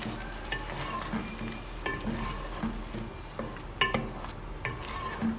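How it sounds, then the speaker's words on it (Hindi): Chicken chow mein with barbecue sauce is stirred in a hot pan. A steady, close sizzle of frying runs throughout, with repeated light scrapes and clinks as the utensil turns the food. "बस अब इन सब चीज़ों को अच्छे से मिक्स करेंगे हम।"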